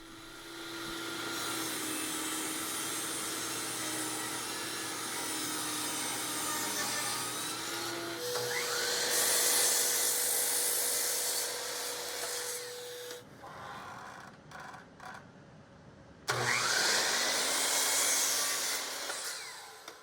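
A homemade wooden featherboard is cut out of a thick milled chunk of wood in a workshop. A power saw drones steadily and close, with its pitch shifting as it cuts, then pauses briefly and starts again.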